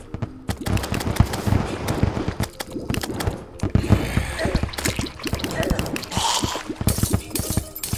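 Water bolt magic attacks in Terraria, a rapid run of sharp, crackling bursts firing in quick irregular volleys, loud and close, with splashy, shattering tails and a few brief pauses.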